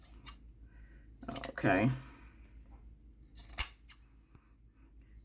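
Scissors cut through earring material in a few close, crisp snips spread across several seconds, with a short spoken word in between.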